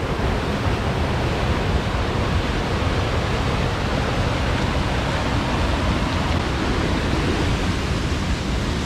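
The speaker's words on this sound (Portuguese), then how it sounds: "quanta água jorrando pela terra" Aira Force waterfall in the Lake District roars with an unbroken, dense rush of falling water, loud and steady throughout, with no voices over it.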